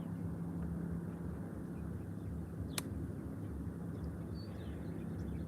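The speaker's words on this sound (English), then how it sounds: "Here is now coming in the Etihad Airways 787-800" An Etihad Airways Boeing 787 arriving from Abu Dhabi and landing at Málaga airport, heard as a faint, steady, distant jet roar with one brief sharp click partway through and no talk.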